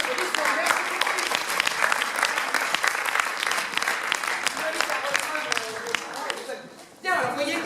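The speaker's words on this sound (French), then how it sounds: "Si vous applaudissez, merci beaucoup" Sustained audience applause at a school theatre festival of fables and Antigone, dense and steady clapping from a full hall for about seven seconds before tapering off, with a voice briefly mixed in near the end.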